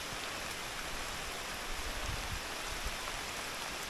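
Heavy monsoon rain falls steadily along a muddy trekking path near a hill-station sunset point, a dense, even hiss of close rain with faint low thuds, no voices heard.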